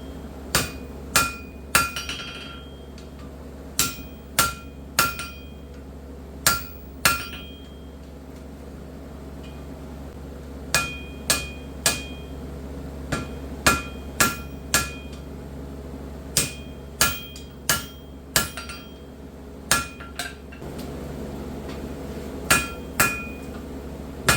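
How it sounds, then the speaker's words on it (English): Sharp metallic hammer strikes on metal at a forge ring out in irregular bursts of several blows, separated by short pauses, over a low steady background hum. "There's a lot of hammering in this video."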